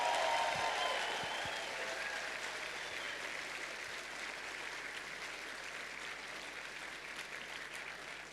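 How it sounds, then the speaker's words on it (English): Conference audience at a developer event in Perth applauds volunteers with a steady, moderately distant round of clapping that holds evenly for several seconds and tapers slightly toward the end. "So perhaps we need to have a super loud round of applause for all the volunteers who are still out there working."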